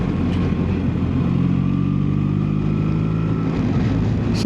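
A 2026 BMW R1300RT touring motorcycle, 281 kilos, riding a tight twisty road, its engine droning steady and loud under heavy wind rush, the pitch shifting slightly through the bends with no talk.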